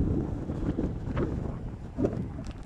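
Strong wind buffets a microphone outdoors at Stonehenge in Wiltshire, a rough low rumble with gusty swells that roars steadily throughout.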